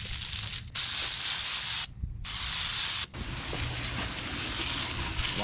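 3M degreaser sprayed onto a Saab Sonett engine in close, hissing bursts, broken by two short pauses between sprays, loud and near with no talking.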